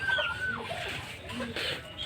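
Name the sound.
hen clucking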